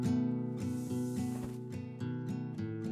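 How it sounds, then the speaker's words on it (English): In the Ark building game, a spray painter coats the wooden underside of a structure, a steady airy hiss of paint spray layered over a loud, continuous droning backdrop with regular tonal pulses. "grab a spray painter and let's see if we can spray paint some of this underside"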